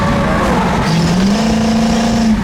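A 1967 Pontiac Firebird convertible with a 4-speed kicks down and accelerates, the engine droning loud and close with a rising, sustained tone.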